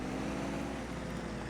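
A tractor engine in a farming video game rumbles steadily as it drives toward town, producing a continuous, loud low drone that never lets up and has no talk over it.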